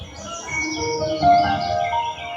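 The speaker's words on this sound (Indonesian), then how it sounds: "Dengarkan suara burung-burung berkicau." Birds chirp and tweet continuously over a soft background, several high calls overlapping.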